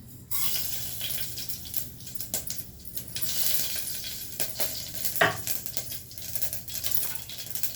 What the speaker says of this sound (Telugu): ఇప్పుడు తిరగమాత వేస్తున్నాను